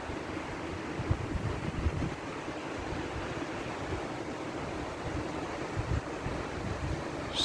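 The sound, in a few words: river flowing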